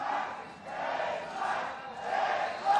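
An esports arena crowd at a Gears of War 4 pro circuit quarterfinal in Mexico cheers and chants in rhythmic swells, a fairly distant roar of many voices rising and falling.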